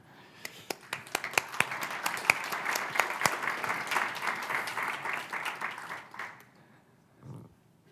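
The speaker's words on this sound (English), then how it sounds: "I just want to give a like huge applause to the team and all of you." Applause from a conference audience at a React Native talk starts as a few sharp claps, swells into a steady round and fades out near the end, leaving a quieter tail.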